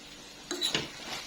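A spoon stirs green chili sambal in a pan over the heat, giving a short scrape and clink against the metal amid faint sizzling, close and quiet.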